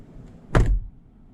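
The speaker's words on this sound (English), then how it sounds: "Let's hear the door quality." Rivian R2 electric SUV door swinging shut, a single solid thunk with a short rumble. It stands alone and close in a quiet car.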